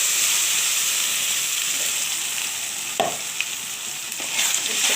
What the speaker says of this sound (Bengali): এবার তেলের সঙ্গে ভালোভাবে কষে দেখো,